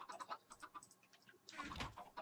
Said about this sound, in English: I've got the chicken farm which I finished off